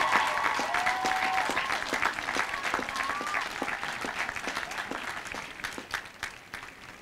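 UCLA Sociology commencement graduates applaud their supporters: dense, sustained crowd applause from a large gathering, steady at first and slowly thinning toward the end, with a few brief voices and whistles mixed in.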